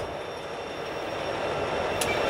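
CSX freight train led by a large lash-up of SD70ACe locomotives passing close by, a continuous loud rumble of rolling wheels and rail noise with a brief high squeal near the end.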